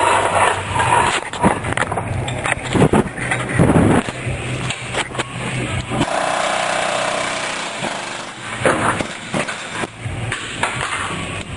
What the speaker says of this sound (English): And you can air hammer it right out of there.